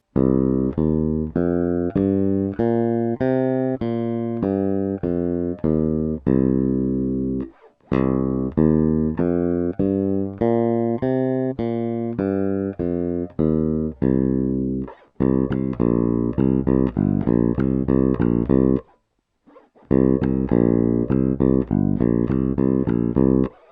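Deep bass guitar with roundwound strings, played through only a preamp, alone in a steady walking line, bright and full with a slight metallic edge, a couple of short pauses.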